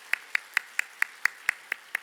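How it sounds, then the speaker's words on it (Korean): A church congregation claps in welcome for children and youth joining Sunday worship: nine crisp, evenly spaced claps in a brisk steady rhythm, sharp and distinct against a quiet room. "우리 아이들을 위해서 우리 축복하며 박수로 한번 환영해 드리도록 하겠습니다"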